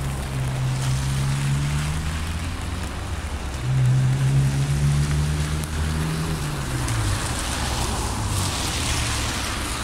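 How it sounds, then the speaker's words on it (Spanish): A boat leaves the harbor at Angelmó, Puerto Montt, in torrential July rain, its low engine drone steady and close, swelling midway, under a constant hiss of rain and water. "una embarcación saliendo"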